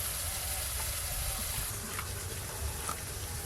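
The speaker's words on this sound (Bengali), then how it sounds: "ইলিশ মাছ রান্নার জন্য মশলা কষানো হয়ে গেছে, তেল ছেড়ে গেছে।" Spice paste of ground dried red chilli frying in oil for a hilsa fish curry, cooked on a clay village stove; a steady close sizzle and hiss runs throughout with faint stirring and no speech.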